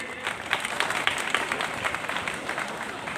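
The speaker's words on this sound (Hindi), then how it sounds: "जोरदार ताली आप लोग बजाते रहिए" An audience at an alumni gathering at an Indian intercollege gives loud, continuous applause, a steady dense patter of many hands with some crowd murmur underneath.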